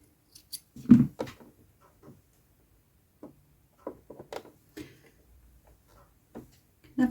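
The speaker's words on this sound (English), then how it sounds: "Let me give it a little trim." Scissors give a sewing machine thread a small trim: a few soft, close clicks and snips spread out over a quiet background, with faint handling noises in between.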